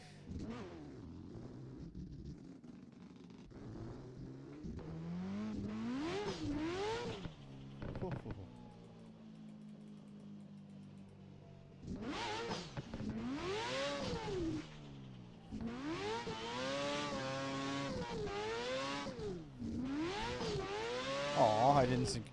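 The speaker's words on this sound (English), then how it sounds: "Why does it have a rotary engine in it?" A rotary-engined car in the Assetto Corsa drift pack revs hard in repeated bursts, its high buzzing note rising and falling as it drifts, with a quiet gap midway before several more loud, sustained pulls.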